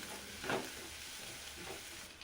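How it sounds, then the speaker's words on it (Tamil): Curry leaves and green chillies sautéing in oil in a pan for a spicy peanut chicken curry, a steady low sizzle with a brief louder stir-scrape near the start and a softer one later, no voices. "நல்லா வதக்கி விட்டுக்கலாம்"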